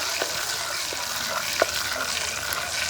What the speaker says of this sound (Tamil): கணவாயம் நல்லா பிரட்டி விடுவோம்